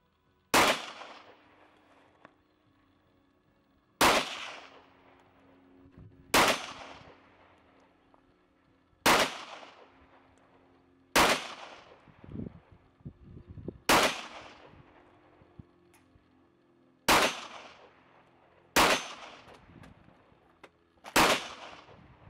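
Two FN 5.7 pistols fired outdoors at a shooting session, nine loud sharp gunshots spaced a few seconds apart, each followed by a brief echoing decay, with no talk.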